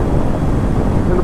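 A 2019 Kawasaki Ninja 400 cruises at steady speed on a wet road on fresh tires, heard as a constant loud rush of wind and engine drone with no breaks.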